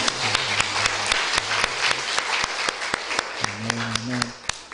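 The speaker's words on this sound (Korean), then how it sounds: "하나님께 영광의 박수를 올리겠습니다." A congregation at a Korean church service applauds steadily, the dense clapping running throughout while a low tone or hum comes and goes underneath.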